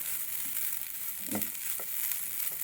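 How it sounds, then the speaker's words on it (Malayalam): Masala for a Kerala-style pork curry roasts in a pan, a constant close frying hiss with a couple of soft scraping stirs, and no talk. "ഇങ്ങനെ ഇളക്കി കൊടുത്തുകൊണ്ടിരിക്കണം."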